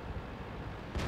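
SU-152 tank destroyer gun in World of Tanks firing a single shot, a sudden loud low boom cutting in at the very end over steady battle rumble.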